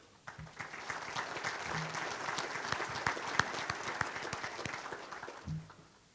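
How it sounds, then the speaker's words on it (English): Sustained applause from a sizable crowd at a scholarship and ring banquet, dense steady clapping throughout with a few louder claps standing out. "please give yourselves a round of applause"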